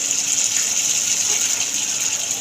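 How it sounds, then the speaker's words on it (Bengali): Water is poured into a pan of egg curry masala, a continuous hissing gush that stays steady and fairly loud for a couple of seconds. "এবার আমি পরিমাণ মতনই জলটা দিয়ে দেবো"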